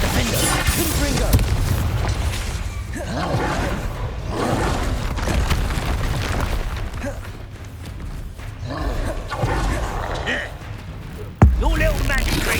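Repeated magical spell blasts from the Hogwarts Legacy video game, Bombarda and Confringo, booming and thudding in a dense continuous barrage with a sharp hit near the end, mixed with game music and voices.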